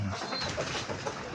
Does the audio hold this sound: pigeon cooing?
yes